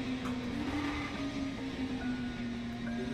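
A racing car engine in a video game at Twin Ring Motegi drones steadily at a high pitch with a faint tire squeal, sounding continuous and fairly loud without any talking.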